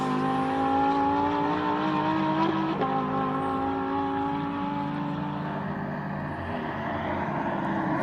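An Audi R8 GT4 race car drives a hill climb course at Simola, its engine note climbing and shifting through gears as it passes and fades into the distance.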